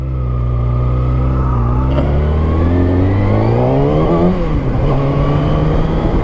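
A 2014 Kawasaki ZX-6R 636 supersport motorcycle with a Leo Vince exhaust revs up strongly, pitch climbing and dropping through gear changes, loud and close with no talk.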